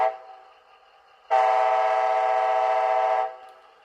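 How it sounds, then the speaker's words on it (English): Short horn blast from a Bachmann HO ALC42 Charger model locomotive in Amtrak Phase 7 livery, produced by a TCS WowSound decoder: one loud, steady chord lasting about two seconds, following the faint tail of an earlier sound. "F3 short horn."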